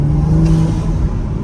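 A Toyota Supra MK5 with a CTS intake holds a loud, steady turbo engine drone with a low rumble and whirring hiss, close by and with no voices.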